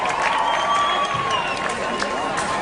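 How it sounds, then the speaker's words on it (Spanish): A live studio audience applauds and cheers for Brian during a TV broadcast, a brief burst of clapping and raised voices with talk mixed in. "Un aplauso para Brian."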